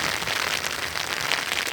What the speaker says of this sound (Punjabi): ਇੱਥੇ ਜਸਟ ਹੁਣ ਮੈਲਬਰਨ 'ਚ ਵਧੀਆ ਮੀਂਹ ਪੈ ਰਿਹਾ ਹੈ ਪੂਰਾ